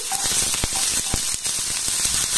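Chopped onion with cumin seeds sizzling in a pan as it is stirred, a continuous bright hiss broken by a few scraping knocks of the spoon.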